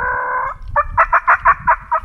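A wild turkey calls loud and close during spring hunting season: a sustained nasal note, then a rapid rattling gobble of about seven pulses.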